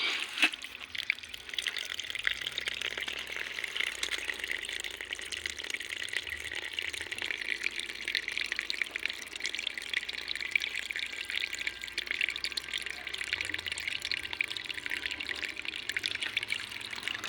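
Water pours steadily into an air cooler, a continuous close splashing rush with a light trickling texture, no talking.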